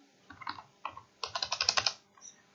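Keystrokes on a computer keyboard while entering shop items into an Excel invoice: a couple of short bursts of clicks, then a quicker run of about ten crisp, close taps, with no voice over it.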